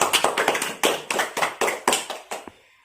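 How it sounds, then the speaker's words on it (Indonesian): Students in a classroom give a short round of applause, fairly quiet and ragged, with a few stronger clap bursts before it fades out. "Tepuk tangan semuanya."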